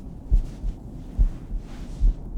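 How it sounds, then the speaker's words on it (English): A strong, steady heartbeat sound effect, three low thumping beats evenly spaced at a slow pace, deep and muffled beneath a soft hum, with no voices. "your head rested against his chest, where you could hear his heart beating"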